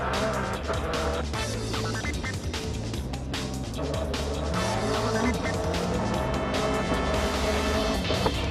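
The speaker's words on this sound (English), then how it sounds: "the 2 cars ahead of him touch, and he ends up kicking the back of the 43 car" Race cars roar past during an onboard replay as two cars ahead touch, with steady engine drone, tire squeal and skidding throughout, loud and continuous.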